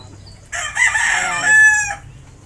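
A rooster crows once nearby, a loud drawn-out call rising and ending in a sustained high note, with quiet background before and after.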